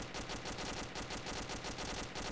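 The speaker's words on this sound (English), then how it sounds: "Bravo 1 is taking heavy suppressive fire at our position." Rapid automatic gunfire from a military strategy video game, Mogilevka Line, pounding in a steady fast rhythm of bursts throughout, loud and close with no voices.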